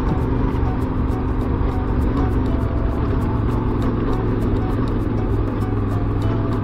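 A motorcycle ridden over rough, technical backcountry terrain gives off a continuous, close engine drone with steady rumbling, no pauses, and faint rhythmic ticking running throughout.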